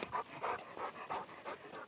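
A ranch dog pants close by in quick, even, breathy puffs, about five in two seconds, heard alone with no talking.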